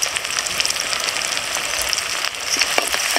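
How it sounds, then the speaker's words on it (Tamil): Onions with curry leaves sautéing in a pan for a village-style country rooster curry, a dense close hissing sizzle with faint crackles, steady and unbroken. "வெங்காயம் நல்லா வதங்கணுங்க. பொன்னிறமாக ஆகிற வரைக்கும் நல்லா வதங்கட்டும்."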